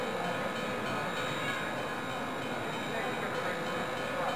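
A cartoon train arriving from Workville makes a steady, continuous rumble with a broad hiss. It stays loud and close from start to finish, with no voices over it.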